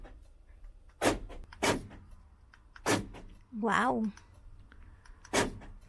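Central locking on the sliding door of a converted Mercedes Vario camper truck: four sharp, close mechanical clunks at uneven intervals, with a brief voice exclamation in between.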